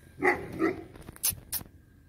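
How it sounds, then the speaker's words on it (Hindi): A farm dog barks several times in short bursts close by, with yips and whimpering tones between the barks and no talking over them. "कुत्ता"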